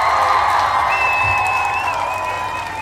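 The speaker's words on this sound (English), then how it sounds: "Let's give her a round of applause" An audience at a talk event gives a round of applause, a steady burst of clapping mixed with crowd whoops and cheers, fairly loud and close for nearly three seconds.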